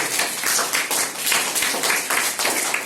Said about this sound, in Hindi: एक बार उनके लिए भी जोरदार तालियां होनी चाहिए